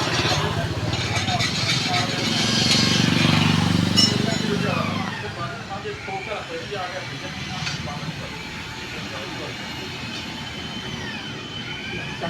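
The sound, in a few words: Honda CD110 motorcycle with Akrapovic exhaust running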